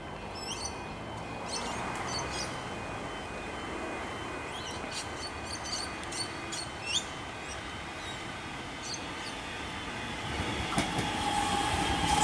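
An X'Trapolis suburban train on a Glen Waverley service arrives at Tooronga station in Melbourne, a steady broad rumble with faint squeals and clicks, heard from the platform with birds chirping nearby.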